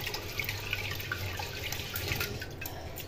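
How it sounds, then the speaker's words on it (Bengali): Rice being washed in water in a home kitchen: faint splashing and dripping water swishes along quietly at close range with no talk. "আর এদিকে এখন চাল ধুচ্ছি"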